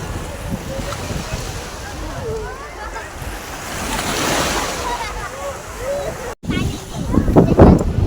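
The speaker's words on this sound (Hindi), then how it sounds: "वो लहरें आई, रेती खींचती हुई जा रही है।" Sea waves wash over the sand at Dwarka beach, a steady surging rush mixed with wind buffeting the microphone, while a voice talks over it, ending in a louder gust of wind.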